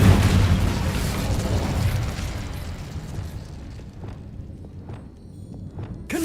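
Incendio fire spell cast in the video game Hogwarts Legacy: a loud fiery burst and roar at the start that fades into a lower rumble, with a few sharp pops and crackles toward the end.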